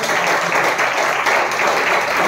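A church congregation claps together in a dense, steady burst of applause that fills the space evenly from start to finish, with no voices standing out.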